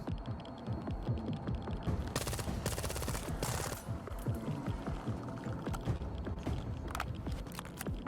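Rapid bursts of automatic gunfire in the shooter game STALKER 2, sharp crackling shots, continuous and fairly loud, mixed with game sound effects and no talking.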